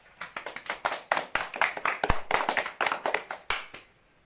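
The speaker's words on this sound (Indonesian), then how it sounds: "Kita kasih aplaus dulu buat kita sendiri" A classroom of fourth-grade students claps for themselves in a quick, dense burst of applause lasting about four seconds before it abruptly stops.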